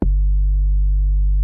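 A steady synthesizer bass tone with the filter knob at 12 o'clock and the cutoff around 500 Hz, holding one loud, unchanging low note on its own for about a second and a half.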